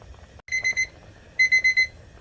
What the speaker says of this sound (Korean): 7분이 울려서 타이머를 끄고